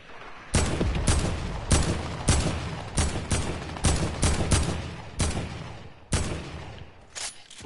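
Repeated loud gunshots in a PS4 video game, sharp bursts arriving in irregular volleys about once a second, close and dominant, with no talking over them.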